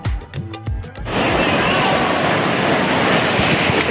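Sea waves at Digha beach roar in a continuous, loud wash of surf with wind buffeting the microphone, following a brief burst of crowd noise and voices at the start.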